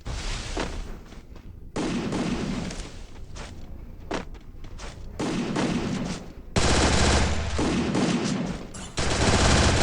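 Rapid bursts of MP40 submachine gun fire in the mobile game Free Fire, loud and close, with several sustained volleys separated by short pauses.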